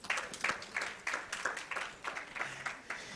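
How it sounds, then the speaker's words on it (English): Symposium audience applauding at a children's day media event, sparse and fairly distant, with clapping that comes in rhythmic bursts, almost in unison, and sounds faint overall. "A round of applause for yourselves."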